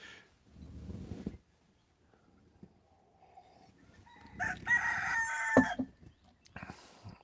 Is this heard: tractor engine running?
no